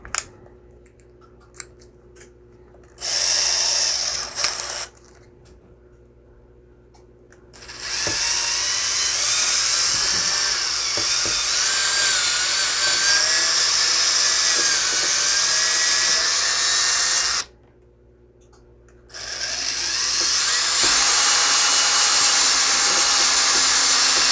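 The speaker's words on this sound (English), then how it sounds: "The first thing I wanna do is drill a pilot hole with this drill bit" A power drill boring a pilot hole into wood whines steadily in three separate bursts, the longest running about ten seconds, with quiet pauses between them.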